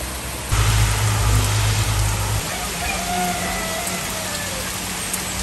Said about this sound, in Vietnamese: trời đổ mưa tầm tã.